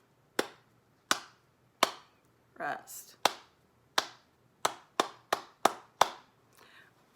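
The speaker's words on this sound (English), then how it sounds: "So when you clap number 66, that's a clapping exercise." Sharp hand claps beat out an uneven rhythm exercise during a trumpet lesson, about a dozen crisp, close claps spaced unevenly, with one brief spoken word between them.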